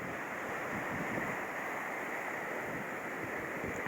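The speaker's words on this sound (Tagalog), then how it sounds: "Malalaki ng mga alon." Large sea waves off Bari-is, Caibiran during a typhoon, a steady wash of surf mixed with strong wind buffeting the microphone, continuous and fairly loud with no one speaking.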